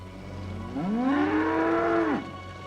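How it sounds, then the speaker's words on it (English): A single cow gives one long, close, steady moo lasting over a second, rising at the start and dropping off sharply, over a quiet low background hum. "They're just cows."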